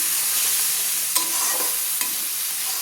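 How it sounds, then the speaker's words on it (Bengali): Spice masala for a spicy chicken curry sizzles steadily in a pan, with two brief scrapes of a spoon stirring the paste. "সুন্দর করে ভালো করে মশলাটা এবার আমি কষিয়ে নিচ্ছি।"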